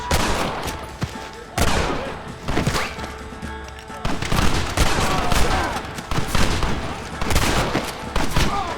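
A Red Dead Redemption shootout: loud volleys of overlapping gunshots and crackling fire, with heavy booming bursts at irregular intervals and a faint voice now and then underneath.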